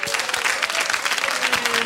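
An audience at a magic show applauds steadily for a couple of seconds, a dense wash of clapping from many hands.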